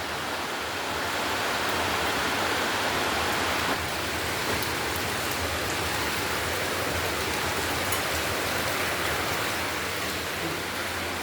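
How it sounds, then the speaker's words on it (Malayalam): Rain falls steadily during a sun shower, a dense continuous hiss of drops close by with no pauses. "ഇതാണ് മഴ."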